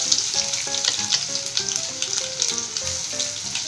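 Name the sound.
cumin, mustard seeds and garlic paste frying in hot oil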